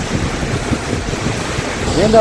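Athirappilly waterfall roaring close by: a loud, dense, continuous rush of falling water mixed with wind buffeting, with a voice faintly present under it.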